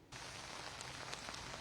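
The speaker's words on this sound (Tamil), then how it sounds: "சென்னையின் பல்வேறு பகுதிகளில் இடியுடன் கூடிய கனமழை வெளுத்து வாங்கி கொண்டிருக்கிறது" Heavy monsoon rain pours down in Chennai, a dense, steady roar of drops hammering surfaces that starts abruptly and holds at an even level, with no thunder audible.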